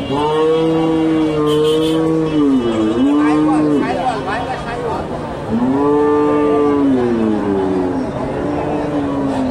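Crossbred dairy cow, a local breed crossed with Friesian, lowing loudly at Bogura's Dhap cattle market, giving two long drawn-out moos close by over a steady market background.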